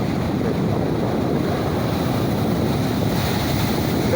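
Sea waves break and wash along the shore in a continuous loud roar, heavy with wind noise buffeting the microphone, with no voices.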